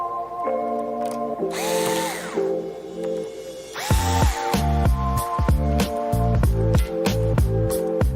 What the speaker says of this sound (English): you want to unscrew these 4 screws that are holding in the LCD